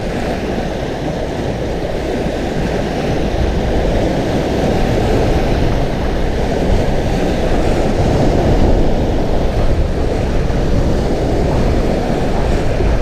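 Strong ocean waves churn in a continuous low roar, mixed with wind buffeting the microphone, steady and loud throughout with no talking.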